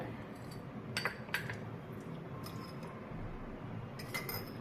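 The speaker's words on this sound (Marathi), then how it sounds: "आणि थोडेसे जिऱ्याचे दाणे पुन्हा एकदा सगळं व्यवस्थित ढवळून घेऊया" A spoon stirs grilled potato raita with yogurt, cumin and sugar in a bowl, giving a few soft clinks against the dish over faint background noise, with no talking.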